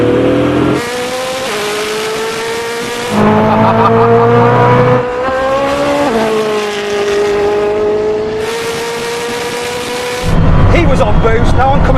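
Koenigsegg Jesko accelerating hard in a rolling race, a loud engine climbing through several gears with sharp shifts, followed by a rough burst near the end, while someone talks over it.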